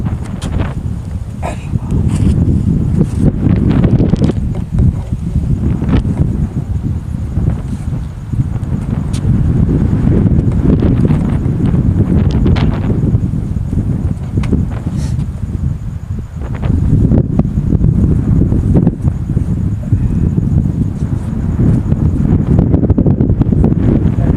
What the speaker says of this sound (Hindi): फिर कैमरा इतनी तेज हवा चली